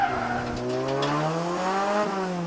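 A Honda Prelude drifts on a mountain touge road, its tires squealing in a long sustained howl that rises and shifts in pitch over a loud, close engine drone, with no talk.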